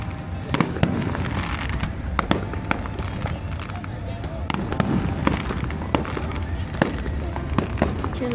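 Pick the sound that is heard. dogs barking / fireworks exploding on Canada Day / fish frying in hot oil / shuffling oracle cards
fireworks exploding on Canada Day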